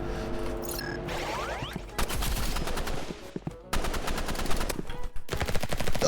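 Rapid automatic gunfire from the Roblox Rivals shooter game, loud bursts of close shots with brief pauses between volleys and faint talk in the background.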